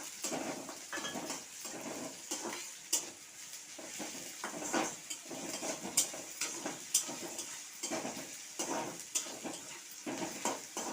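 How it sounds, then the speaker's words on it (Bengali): Black cumin and chopped garlic fry in oil for a curry leaf bhorta, a steady soft sizzle broken by repeated stirring scrapes and utensil knocks in a regular rhythm, close by with no talk. "এইগুলো আমি এখন লাল লাল করে ভেজে নেব"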